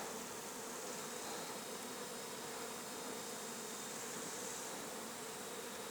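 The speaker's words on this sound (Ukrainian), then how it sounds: "Чую, наростає гул. Піднімаю голову. Прибуває бджола." A steady, droning buzz of many bees as an autumn swarm arrives, even and continuous throughout, with a faint high whine running along the top.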